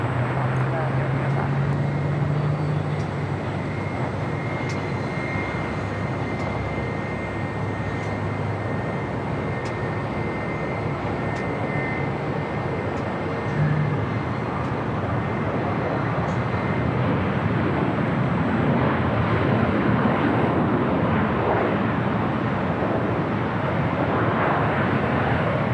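EVA Air Boeing 777-300ER rolling down runway 25 right at LAX on its takeoff run, a broad sustained jet roar growing slightly stronger toward the end, heard at a distance with faint radio chatter.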